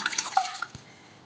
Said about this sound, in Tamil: கடாயில் ஒரு கப்பு தண்ணி சேர்த்துக்கலாம்.